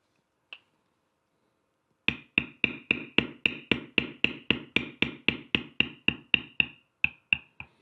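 A bevel tool is struck hard with a mallet into leather, over and over in a fast, even rhythm of about twenty sharp, close knocks after one isolated tap.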